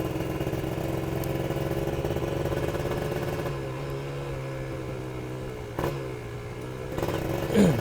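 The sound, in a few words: Kawasaki Ninja two-stroke motorcycle revving lightly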